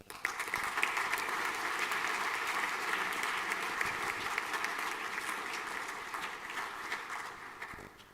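Students and audience at a final school assembly clap for an award recipient, a full, even burst of many hands that starts abruptly, holds steady and tapers near the end, with no talk over it.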